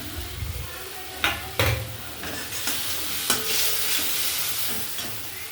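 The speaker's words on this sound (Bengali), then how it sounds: "পোস্তটা একটু কষে নিয়েছি" Poppy seed paste for hilsa posto fries and is stirred in a pan in a village kitchen, with soft continuous sizzling broken by a few sharp scrapes and clinks of the spatula.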